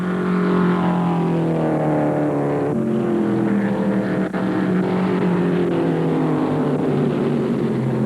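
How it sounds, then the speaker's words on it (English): Mid-1970s NASCAR stock cars, including a Ford and a Chevy, race down the long back straight at Atlanta, engines roaring steadily and loudly with a sustained droning whine throughout, no voices. "Buddy Baker in the Ford number 15 uses the long back straight to pass Cale Yarborough's Chevy and close up on the leader."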